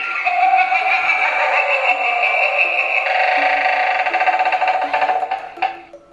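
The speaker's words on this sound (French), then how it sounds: "c'est la sonnette pour la maison" A Halloween doorbell rings steadily and loudly for several seconds, a buzzy repeating electronic chime that cuts off near the end.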